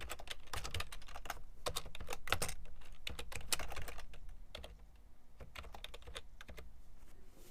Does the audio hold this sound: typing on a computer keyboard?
yes